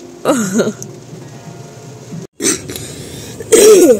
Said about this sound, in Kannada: ಮಂಗಳೂರಿನಲ್ಲಿ ಇಷ್ಟು ಪ್ರಮಾಣದ ಮಳೆ ಆಗ್ತಾ ಉಂಟು